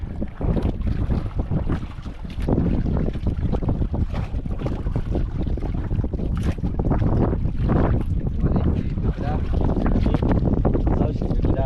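Boats on the water at sea: heavy wind buffets the microphone and engine and water noise rumble low and loud all through, with a voice talking over it.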